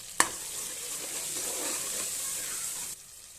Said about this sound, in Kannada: ಹಸಿಮೆಣಸಿನ್ಕಾಯಿ ನಾಲ್ಕು ಪೀಸು ಕೊತ್ತಂಬರಿ ಪುದೀನ ಸೊಪ್ಪು ಸ್ವಲ್ಪ ಹಾಕಿ ಫ್ರೈ ಮಾಡ್ತಾಯಿದ್ದೀನಿ